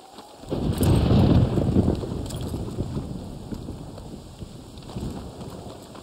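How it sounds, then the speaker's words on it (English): Rain and rolling thunder in Red Dead Redemption 1 on PS4, a deep rumble swelling early then easing into a continuous rain wash with faint clopping, moderately loud and steady. "Always love this game during the rain."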